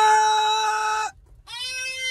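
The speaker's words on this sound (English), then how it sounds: "those are some chickens" Chickens clucking and squawking loudly and close by in two bursts with a short gap between them, with no talk over the sound.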